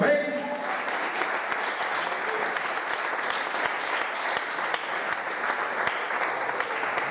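A church congregation in Managua claps in praise to Christ during a service. The clapping is sustained, loud and even for several seconds, with a few sharper individual claps standing out.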